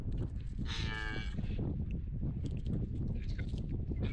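A curious Angus-cross cow gives one drawn-out moo close by, followed by low shuffling and ambient outdoor noise.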